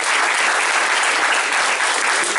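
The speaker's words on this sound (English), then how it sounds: "giving a round of applause to all the folks that have chosen to step up into these leadership roles" A crowd at a New Florida Majority community gathering applauds its leaders with steady, dense clapping that stays loud and even throughout the short stretch.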